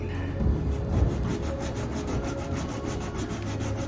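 Sandpaper scrubs back and forth over a handmade craft mountain in a continuous, rhythmic rubbing with repeated strokes, close and moderately loud.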